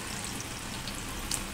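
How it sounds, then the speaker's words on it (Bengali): Egg and onion fritters fry in hot oil, a close, even sizzle with soft popping that carries on without a break through the short stretch. "চলো ভাজা হোক"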